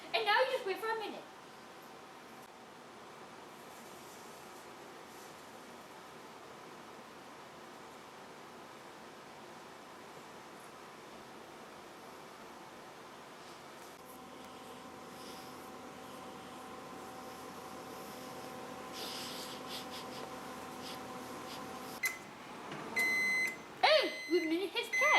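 A microwave oven heats chicken nuggets with a steady, even hum that runs for most of the stretch, then ends in a cluster of short electronic beeps near the close.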